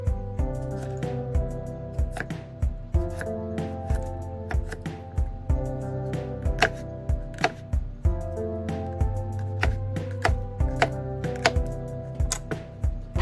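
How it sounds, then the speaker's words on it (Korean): Knife chopping cucumber into large strips on a cutting board in a home kitchen, a steady run of crisp, close knocks repeating throughout with a light rhythmic pattern, no talking. "오이는 크게 채 썰어주세요."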